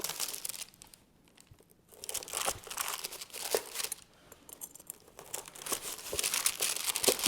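A knife slices through homemade treats laid on parchment paper, giving irregular crinkling and crunching bursts with brief quiet gaps between cuts.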